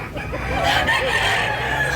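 A large rooster crows once at Tabunok market in Cebu, a strained, fairly loud call over a busy background murmur.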